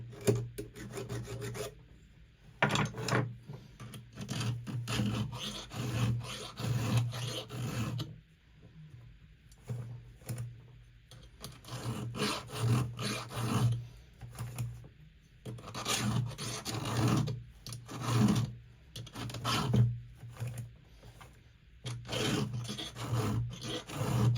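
A chainsaw chain sharpened with a hand file: steady, repeated rasping strokes in a quick even rhythm over about twenty-four seconds, close but fairly quiet, with no voices.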